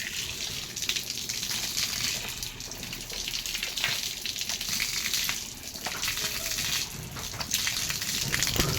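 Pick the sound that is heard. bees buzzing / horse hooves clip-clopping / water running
water running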